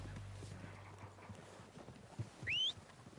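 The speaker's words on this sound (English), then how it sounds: "They're coming down with the horses." Horses' hooves clip-clop faintly in Red Dead Redemption 2, a scattered run of soft steps close in. A short sharp squeal rises near the end.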